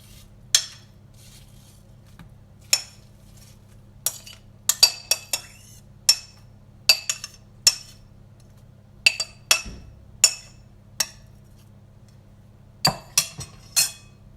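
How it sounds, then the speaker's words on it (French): Apples stirred in a bowl for an apple and almond cake: a spoon clinks sharply against the bowl a dozen or more times in irregular taps and short bursts, close and clear over a faint low hum, with no voices. "Je vais mélanger les pommes."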